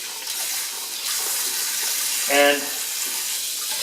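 Hot water runs from a kitchen tap over a trout, a steady hissing stream throughout, with a short spoken word partway through.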